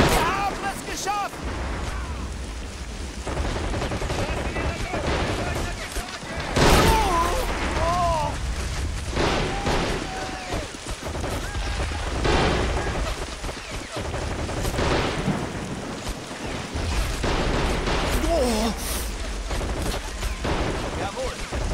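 Dense video game battle with bursts of gunfire and heavy artillery booms rolling over one another at close range, under shouted German voice lines and clanking mechanical noise.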